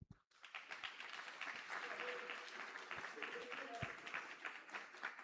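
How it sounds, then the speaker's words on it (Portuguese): Applause from a conference audience in Sorocaba welcoming a tax auditor onstage, a dense, steady wash of many hands clapping for about five seconds, moderately distant and sustained without letting up. "Vamos receber com muitos aplausos Rodrigo Espada."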